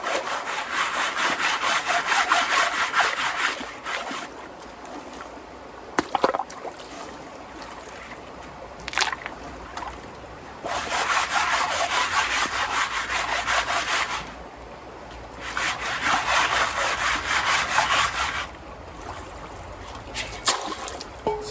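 Gravel is shaken and scraped through a classifier into a Batea gold pan outdoors, giving loud bursts of gritty rattling and rasping with a watery trickle. The bursts alternate with quieter pauses and occasional knocks.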